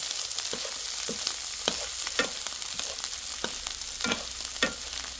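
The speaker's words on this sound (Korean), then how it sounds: "고추가 들어갔을 때는 이제 물이 생기니까 이렇게 센 불에서 한번 딱 볶아주세요." Cucumber and chili stir-fried over high heat, producing a continuous sizzle with frequent sharp spatula scrapes and clacks in an uneven rhythm, close and clear with no talking.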